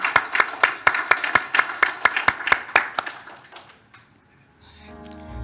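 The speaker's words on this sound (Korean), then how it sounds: "4분 선생님께 박수, 6분 선생님께 박수 부탁드립니다." At a Korean writers' conference, one nearby pair of hands claps about fifteen times in a brisk, regular rhythm before stopping, leaving a short tonal sound and faint room noise.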